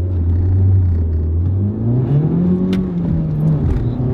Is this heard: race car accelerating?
yes